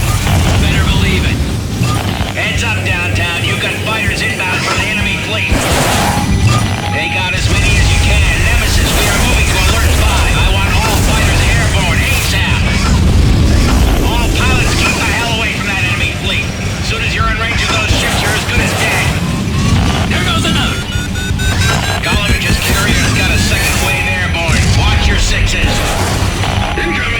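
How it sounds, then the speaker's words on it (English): Continuous rumbling booms and cracking explosions in the Heatseeker PS2 jet combat game, loud and dense, layered over music, engine drone and radio voices talking. "Explosions everywhere."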